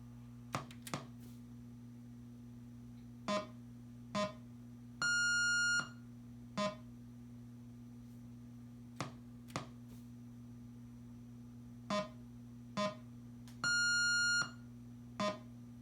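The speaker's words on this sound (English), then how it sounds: "The third beep is a high tone" A 1980 Atari Battlezone arcade board in self-test mode gives out a run of short electronic beeps, some of them longer high-pitched tones, spaced irregularly over a steady low hum, with no voices.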